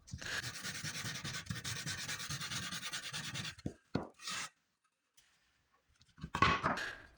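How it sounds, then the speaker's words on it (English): A scrap wood heart cutout is shaped by hand with a file and sandpaper, giving a rhythmic rasping scrub for about three and a half seconds, then a few short strokes separated by pauses, all quiet and close. "I'm doing a little filing and hand sanding, smoothing and trying to shape the wood a little better"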